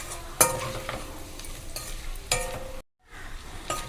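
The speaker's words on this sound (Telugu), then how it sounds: "ఇలాగా ఆయిల్లో చూసారా, ఇంకొక నిమిషం వేపేస్తే తీసేద్దామండి." Something frying in hot oil in a pan for a tomato curry, giving a steady close sizzle broken by a couple of sharp utensil clinks, with a brief dropout to silence near the end.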